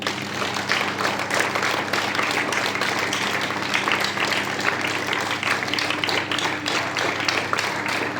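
Steady, dense clapping from a large group of school students during drill fills the whole stretch, a continuous crowded patter without clear pauses.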